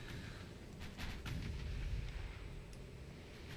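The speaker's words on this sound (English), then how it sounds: "We plink shots away at the enemy" Naval gunfire in Ultimate Admiral Dreadnoughts, with deep rumbling booms from warship guns rolling under a steady low battle drone, a few sharper cracks rising over the rumble, moderately loud and with no talk.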